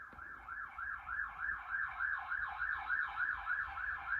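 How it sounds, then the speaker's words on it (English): An ambulance siren sounds on a city street, wailing in a steady rapid up-and-down cycle, moderately distant and fairly faint, with no talk over it. "Oh, it's an ambulance."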